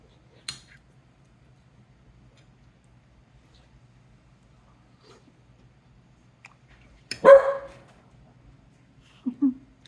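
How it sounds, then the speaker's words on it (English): A dog in a home kitchen gives a single sharp bark, followed by a softer short yip, with quiet pauses and a faint click earlier on. "The dog wanted to put her opinion in."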